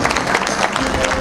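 Audience applause at a Shinan County fishery business managers' rally, a brief burst of dense, steady clapping from a seated crowd with some crowd noise mixed in.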